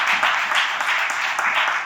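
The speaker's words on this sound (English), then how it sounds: "So give yourselves a round of applause." A crowd at a talk on collective leadership and storytelling gives a steady wash of applause, close and continuous for a brief stretch with no speech over it.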